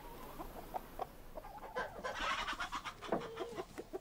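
Chickens on a northern German farmyard clucking in short, irregular bursts, several birds close by and overlapping, with a busier stretch of calls midway and no talking.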